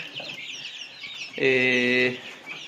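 Chickens in a warm chick brooder give soft, close clucks and murmurs, then one louder sustained tonal call of about a second, alone without talk.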